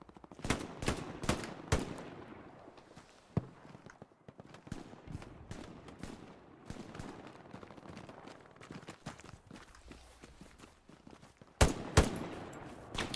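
Gunfire in the World War II shooter Hell Let Loose at Carentan town center, with sharp rifle cracks and rapid shots spread throughout and a cluster of loud reports near the end, no talking.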